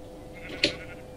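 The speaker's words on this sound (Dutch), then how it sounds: "Zo, de schapen zijn weer aan het voortplanten." A single short sheep bleat from the Minecraft video game, near and clear against a quiet background hum.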